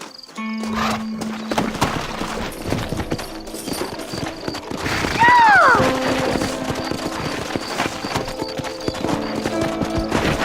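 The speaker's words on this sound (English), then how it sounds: "Horses are over here!" Horse hooves clip-clop steadily in the Red Dead Redemption video game, a rhythmic trot heard up close over game music and ambient sound, with a brief whinny partway through.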